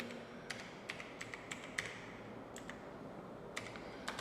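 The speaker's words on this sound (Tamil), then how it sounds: "கூகுள் சர்ச்சில் ஓப்பன் ஷாட் அப்படின்னு டைப் பண்ணுங்கள்." Quiet, irregular taps on a computer keyboard while a search is typed into a web browser, about a dozen sharp keystrokes in short bursts over a soft room hiss.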